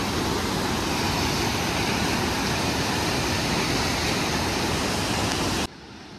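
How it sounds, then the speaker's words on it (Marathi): Rain-swollen water rushes fast beneath a bridge in a loud, dense, unbroken roar that drops suddenly at the very end. "पाणी बघा किती फास्टमध्ये."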